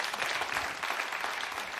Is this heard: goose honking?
no